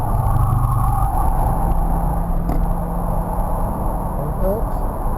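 A car pulls out of a corner on the AMP race track during a Hooked on Driving session, its engine a loud, steady, close drone that holds throughout the clip.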